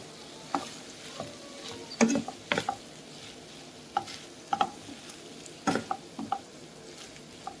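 Liver and chopped peppers with lemon juice sizzle in a frying pan while being stirred, with a steady frying hiss and scattered scraping knocks from the spoon against the pan, close and fairly quiet.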